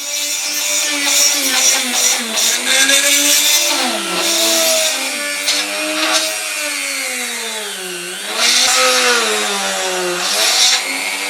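A small 2.5mm drill bores out the rivet posts of a Dinky Toys Austin taxi die-cast casting, a loud close whine whose pitch bends up and down as the bit bites and eases, running continuously.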